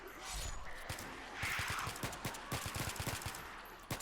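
Rapid bursts of M16 rifle fire crackle through a zombie battle in a Vietnam-era video game against NVA zombies, with repeated sharp shots in irregular clusters over a dense, noisy battlefield background.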